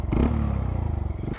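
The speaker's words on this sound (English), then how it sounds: "Bike sounds a little bit rattly." A Honda Monkey 125 motorcycle engine rattles and clatters up close, a loud pulsing idle with rapid rhythmic beats for about a second and a half, with no voices.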